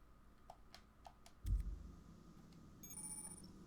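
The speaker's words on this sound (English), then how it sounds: "my phone's now like tapping off like crazy" A phone sounds a series of short notification chimes and beeps while a software update comes in, faint and spaced out, with a dull thump partway through and no talk.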